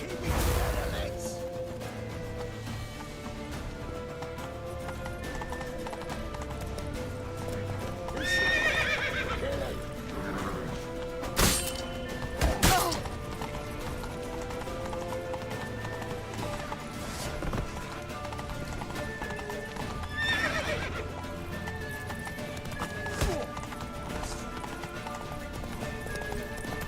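Horses gallop and neigh in The Witcher 3: Wild Hunt, with continuous hoof clip-clop under a music bed and sharp whinnies recurring over nearly half a minute, along with occasional crashes and people talking at times.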